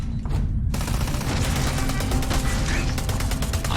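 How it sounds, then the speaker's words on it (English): Heavy gunfire in Starfield, a continuous rattling barrage of rapid shots with mechanical clatter, loud and close over a low rumbling background, with no voices. "opening fire"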